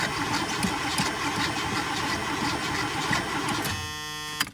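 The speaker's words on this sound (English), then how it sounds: "it's cranking good" An old car engine cranks over on the starter in a shop, a steady, loud churning grind that runs without a break and then cuts to a brief buzzing whir near the end.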